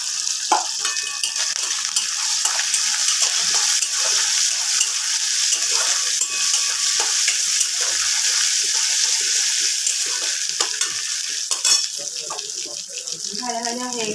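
Cashews, raisins and a little chili paste frying in oil for Bengali pulao give a steady, bright sizzle that runs unbroken and close for the whole stretch, with faint clinks of a stirring utensil and no talk.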